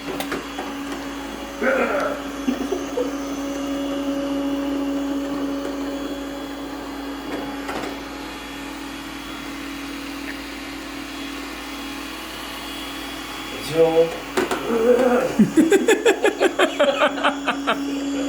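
A vacuum cleaner's steady motor drone with a constant whining hum runs throughout, with occasional knocks and rattling bursts near the end as the machine moves.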